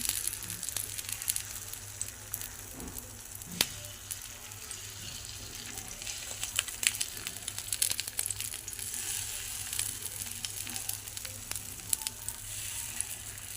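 Batter fries in a hot pan for a healthy breakfast dish, giving a steady, close sizzle with faint crackles throughout and no voices.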